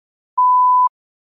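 A single clean electronic beep marks the start of response preparation time in a TOEFL test, a steady mid-pitched tone lasting about half a second, alone in silence.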